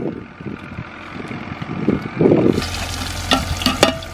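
Duck pieces frying in oil in a pan at a Cholistan farmhouse, with a steady sizzle and hiss that grows louder and crackles sharply partway through, accompanied by occasional stirring.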